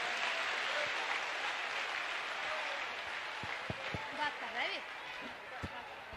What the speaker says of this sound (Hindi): बिटिया के लिए खूब ताली बजाओ, खूब जोर से बजाओ